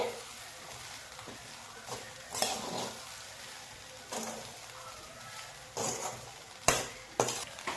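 Poha being stirred in a pan, a spoon scraping and tapping against the metal in several short bursts over a faint background, with no voices.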